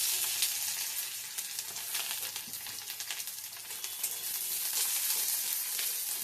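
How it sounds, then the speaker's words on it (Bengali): Onions fry in oil in a pan, producing a continuous close sizzle with scattered pops and crackles throughout, with no talking. "পেঁয়াজটিকে তেলে ভেজে নেব।"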